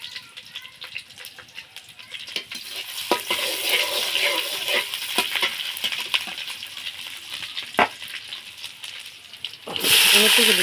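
Taro stolons drop into hot oil in a pan and fry with a bright, steady sizzle, crackling and spitting close by, rising into a louder burst of hiss near the end.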